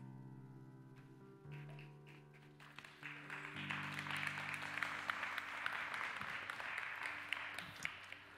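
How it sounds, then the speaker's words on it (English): Church congregation clapping at the close of a sermon, applause swelling gradually over sustained organ or keyboard chords, faint at first and then building to a steady patter. "I don't know if that y'all clapping because I'm closing or just because it was good."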